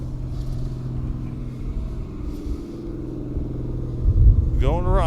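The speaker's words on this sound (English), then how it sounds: "Dirt Car Pro Stock going back to his pit area." A Dirt Car Pro Stock race car rolls back toward the pit area at Glen Ridge Motorsports Park, its engine a steady low rumble throughout, swelling briefly near the end as a voice cuts in.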